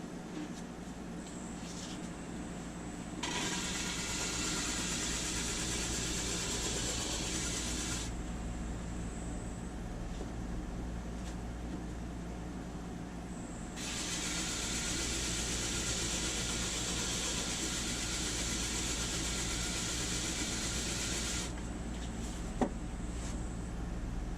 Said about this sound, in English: I'm going to sand it flat.